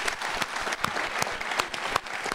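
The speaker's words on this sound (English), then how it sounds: "Chris really deserves and really to have a great applause for that" Audience applause at a film festival Q&A for the film Shot In The Dark, a dense, steady burst of many hands clapping close by, filling the whole stretch with a few sharper claps standing out.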